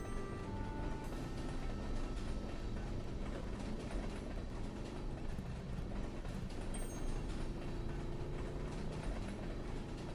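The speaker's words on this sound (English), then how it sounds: "The train!" A train rumbles past in the farming game Stardew Valley, a steady rolling clatter of wagons with faint mechanical rattles that holds at an even level for the whole stretch.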